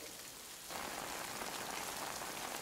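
Rain in Death Stranding, with a soft hiss that rises suddenly into a steady, loud downpour drumming on the ground and surfaces, with no voices.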